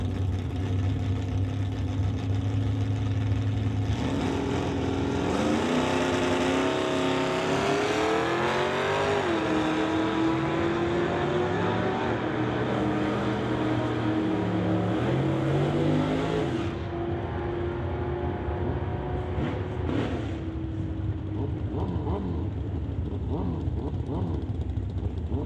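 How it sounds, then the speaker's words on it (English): Drag racing at a strip, a 1966 Ford Fairlane facing an AMX: a loud, sustained engine roar that rises in pitch as the cars accelerate, then drops away and fades, with an announcer's voice over the start. "That brings up Brady Peterson in his 1966 Fairlane. Will race Glenn Fillingham's AMX"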